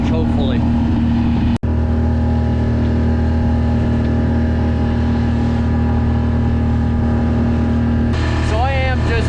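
A sailboat motors under engine power near Martin Reef, its inboard engine droning steadily and loudly up close, with a single sharp knock early on and someone talking over the hum.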